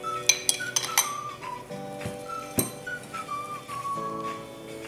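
Naan bread dough being mixed in a bowl starts with a quick series of bright clinks from a utensil against the dish, then settles into softer stirring scrapes over a steady whistle-like tone.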